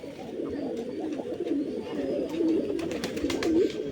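Pigeons coo in repeated low, rolling phrases, close and continuous over a faint background hum.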